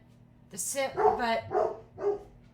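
A pet dog barks four times in a quick irregular series, fairly close and loud indoors over a low background hum, while a garbage truck makes its rounds outside.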